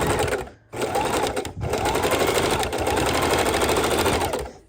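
A sewing machine runs a straight stitch along quilt binding, a steady close mechanical whir with two brief pauses between runs.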